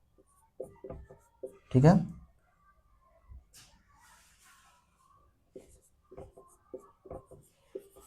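Numbers being written by hand during a multiplication lesson, with short scratchy strokes and one louder scrape, interspersed with a person speaking Hindi nearby.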